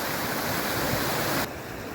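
Waterfall number seven of the Arnfield Brook scramble pours into a fairly deep pool, a steady close rushing roar of falling water that drops slightly in level near the end, with no voices.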